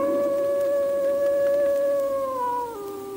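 Dog howling in the 1990 Danish dub of the Silver Fang anime, a single long sustained howl that bends downward near the end, clear and close with no talk.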